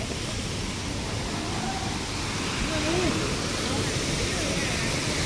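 A waterfall near China's glass bridges and Buddha hand site, heard as a constant broadband roar of falling water, steady and moderately loud, with faint voices in the background.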